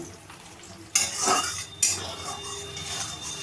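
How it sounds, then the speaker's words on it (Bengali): Spice masala frying in a pan for a paneer curry, with salt added: a steady sizzle broken by two sharp scraping bursts of stirring, close and loud with no talk. "এবার আমি মশলাটাকে ভালো করে ভেজে নেব।"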